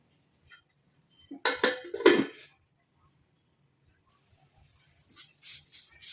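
Curry leaves fry in an iron kadai while being stirred, giving short bursts of crackling sizzle and scraping, first a cluster of louder scrapes, then a quiet pause, then lighter rhythmic stirring sounds.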